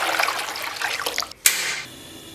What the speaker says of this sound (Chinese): 咱们把水倒到锅中